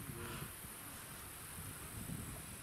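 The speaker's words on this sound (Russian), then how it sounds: "Да, комарики провожают." A steady high insect whine of mosquitoes at night outdoors, faint and continuous under low ambient noise with a hint of wind.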